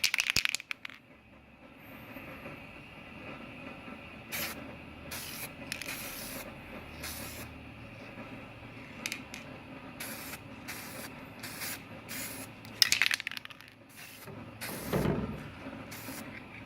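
Spray paint applied as a first light coat to an Arrma Nero RC car body, heard as a series of short, sharp aerosol hisses repeated in quick bursts, close up and with no talking.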